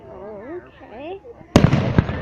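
Canada Day fireworks burst loudly and abruptly after a stretch of speech, leaving a dense, crackling roar with further pops close by.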